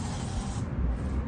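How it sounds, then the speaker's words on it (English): An aerosol can of white paint, not a regular spray can, releases a short, close hissing burst that cuts off partway through and leaves a low rumble. "It's not a regular spray can."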